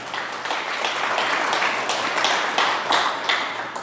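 A church congregation at a Spanish-language service claps together, a thick, continuous wash of applause that swells and holds steady, with a faint low hum beneath.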